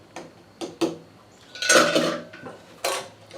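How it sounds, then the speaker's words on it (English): Metal lids clink and clatter onto glass jars of pina colada moonshine in a few sharp, close taps followed by a longer rattling scrape, with no talking. "Alright, now put the lids on this."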